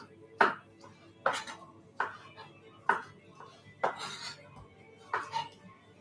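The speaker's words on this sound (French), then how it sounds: "Mon couteau il est là. Hop. Nos tomates en petits morceaux." A knife chops tomatoes into small pieces on a board, six sharp, close cuts at an uneven, unhurried pace with quiet pauses between them.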